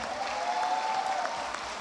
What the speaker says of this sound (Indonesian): Tepuk tangan yang meriah untuk beliau.